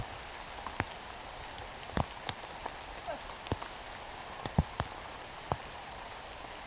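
Steady rain falls outdoors on a disc golf course, a soft continuous hiss broken by scattered sharp drips and taps landing close by, with no voices.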